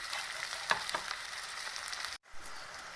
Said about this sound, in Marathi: तर कांदा परतून घेणार चांगला